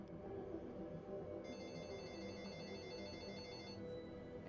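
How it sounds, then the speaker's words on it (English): An old-style telephone rings in the Assassin's Creed Unity video game, a repeated electronic trill lasting a couple of seconds, heard faintly over low ambient game background with no talk. "And now the phone's ringing for some."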